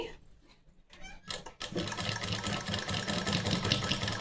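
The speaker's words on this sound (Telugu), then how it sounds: "ఇలా ఫోల్డ్ చేసుకొని ఇప్పుడు స్టిచ్ చేసుకుంటాము." Domestic sewing machine stitching dotted rows along the back panel of a blouse, a steady continuous whirring hum that starts after a short quiet gap with faint rustling, then runs loud and even to the end.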